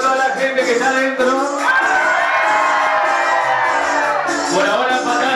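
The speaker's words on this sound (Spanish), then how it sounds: "El grito de toda la gente que está adentro." A crowd at a live concert during the Uthgra festival shouts, whoops and cheers continuously. The sound is loud, dense and close throughout, with the voices swelling together.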